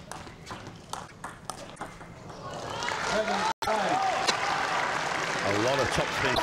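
Table tennis rally in a 2012 Liebherr Men's World Cup third-place match, Samsonov against Xu Xin, with a run of sharp ball pings and topspin exchanges over a growing arena crowd roar and a commentator talking.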